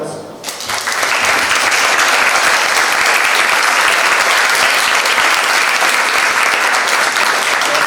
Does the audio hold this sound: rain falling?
no